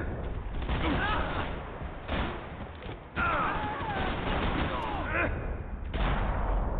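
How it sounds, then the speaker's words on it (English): Gunfire in the video game Max Payne 3 crackles in repeated bursts and volleys, loud and cluttered, with speech mixed in among the shots. "Gunfire over Hoboken."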